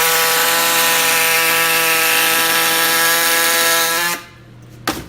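A Harbor Freight air tool cuts into a piece of scrap metal with a loud, steady, harsh buzz for about four seconds, then stops abruptly, followed by a brief clatter.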